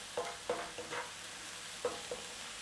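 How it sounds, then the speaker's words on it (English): Mushrooms cook down in a pan under a faint, steady sizzle, broken by a few soft scraping stirs spaced irregularly, quiet and close. "what we're going to do is just completely cook this down until all the moisture comes"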